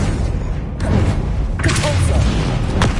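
A heavy magical blast from the Confringo spell in Hogwarts Legacy booms loudly over a dense, rumbling battle bed, with whooshing bursts and a voice shouting a spell over the noise.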